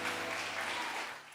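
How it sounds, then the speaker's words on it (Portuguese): A church congregation claps in praise during a sermon. The applause comes as a short, dense burst that tapers off quickly at the end. "pode aplaudir ao Senhor"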